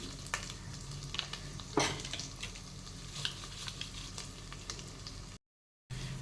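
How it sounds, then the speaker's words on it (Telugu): Noodle masala packets fry in hot oil in a pan on the stove as a spoon stirs them, a soft steady sizzle broken by a few sharp scraping clinks, close up with no voices. "ఆయిల్లోనే నేను ఇప్పుడు నూడిల్స్ మసాలా ప్యాకెట్స్ వేసుకుంటున్నాను."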